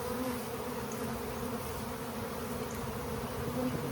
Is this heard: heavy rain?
no